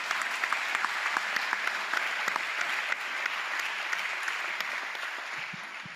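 An audience applauds steadily for several seconds at a talk about surviving the Nova festival: dense, sustained clapping from many hands, fairly even in loudness throughout.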